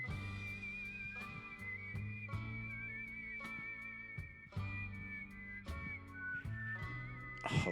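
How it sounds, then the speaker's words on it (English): Whistling carries the melody in Final Fantasy VI Pixel Remaster's game music. Long, slightly wavering notes glide over a gentle backing with regular rhythmic clicks and stay at a moderate, steady level. "That soulful second whistle sneaking in."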